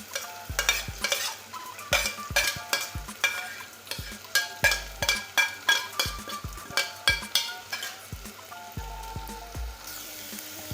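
Finely chopped onion and green chili fry in hot oil with whole spices, a steady sizzle broken by frequent loud scraping stirs and clinks of a spatula against the pan, rhythmic and close.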